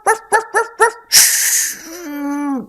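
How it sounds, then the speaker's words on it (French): Cartoon dog barks four times in a steady, loud, close rhythm, then gives a longer wavering howl-like cry that tails off. "Pourquoi aboies-tu comme ça ?"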